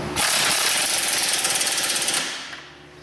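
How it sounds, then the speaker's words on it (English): A power tool tightens a rear suspension bolt on a Ford Taurus during a knuckle bushing and toe link job, giving one loud, rapid hammering buzz of about two seconds that then winds down. "Now that the suspension is fully compressed, tighten that bolt up."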